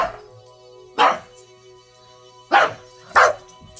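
A dog barks three times in sharp, separate bursts spread across a few seconds, close and loud against an otherwise quiet indoor room.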